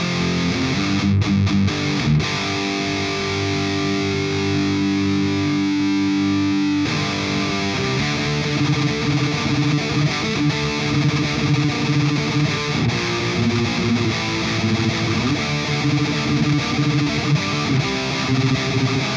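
An electric guitar plays through an Engl Straight amplifier in a distorted, heavily driven tone, with sustained chords and riffs that are loud and continuous, pausing briefly before resuming for about nineteen seconds.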